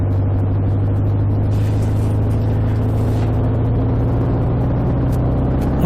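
Steady drone of a motorcycle engine cruising on a test ride after a carburetor fix, heard close and loud with a constant low hum on a smooth new road surface, no talking.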